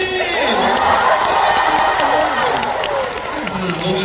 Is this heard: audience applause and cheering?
yes